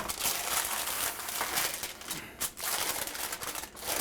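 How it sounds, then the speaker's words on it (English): Parchment paper crinkling and rustling as it is lifted from both sides of a baking pan holding roasted nuts, with close, continuous crackles and a few brief pauses, no talking. "And to do that, I just lift the paper"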